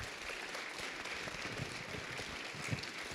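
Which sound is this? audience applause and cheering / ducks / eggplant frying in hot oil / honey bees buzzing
audience applause and cheering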